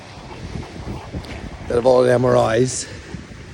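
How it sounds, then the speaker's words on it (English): Wind gusts buffet an outdoor microphone, making a low rumble under someone speaking steadily, with a brief stronger gust near the middle. "it's a bit windy today, but hopefully you can hear this"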